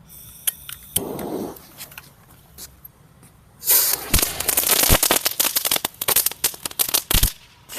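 A Tom and Jerry Diwali firecracker, lit and left to burst, gives a brief fizz, then a long run of sharp crackling pops and bangs that keeps going for several seconds, close and loud.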